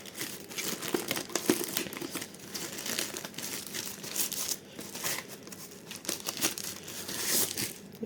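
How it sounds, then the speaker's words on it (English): Plastic packaging around a surround speaker from an ULTIMEA Poseidon D70 7.1 system is torn open, giving close, busy crinkling and ripping with uneven bursts throughout. "Let's rip this open,"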